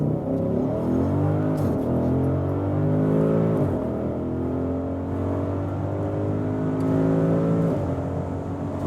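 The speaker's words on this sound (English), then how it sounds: "let's just floor it out acceleration wise and do some dynamic driving" An Audi SQ8 SUV with a 4.0 V8 accelerates at full throttle on a test track, engine roaring loud and continuous with rising pitch sweeps as it climbs through the gears, no talking.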